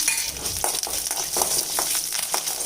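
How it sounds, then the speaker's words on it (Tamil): Mustard seeds, dals and curry leaves sizzle in hot groundnut oil as a tempering for lemon rice, a dense close crackle with sharp pops scattered throughout and no talking. "இப்போ லெமன் ரைஸ் தாளிக்கிறதுக்கு கொஞ்சமாக கடலை எண்ணெய் விட்டுக்கலாங்க கடுகு சேர்த்துக்கலாம்"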